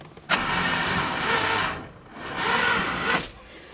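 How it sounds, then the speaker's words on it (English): LSX V8 in a Nissan 240SX cranking over without a key: a sharp click starts a steady whirring starter drone for about 1.5 seconds, a brief pause, then a second equal cranking burst ending in another click, loud and close. "I don't need the key to crank it over."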